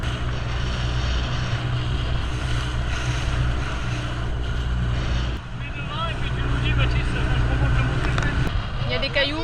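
A small motorboat with an outboard engine drones steadily as it heads toward a white-sand beach in the Tobago Cays, with wind and waves washing around it and voices talking over the engine.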